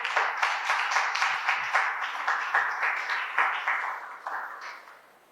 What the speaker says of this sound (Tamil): நல்லா கைத்தட்டுங்க பார்க்கலாம் ஆண்டவருக்கு.